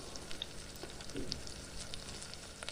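Chana dal, urad dal, mustard seeds and cumin frying in hot oil for a tomato pickle, a steady close sizzle with scattered small pops and crackles, no talking.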